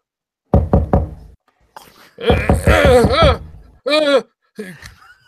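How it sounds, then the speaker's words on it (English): Knocking on a door during a live Sherlock Holmes Christmas radio-style play, a few sharp raps near the start, then groaning, moaning vocal sounds follow. "I'm going to knock on the door."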